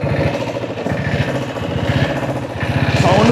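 A diesel-engine motorcycle idles and runs with a loud, steady low chugging thump that rises slightly toward the end, close by, with no speech.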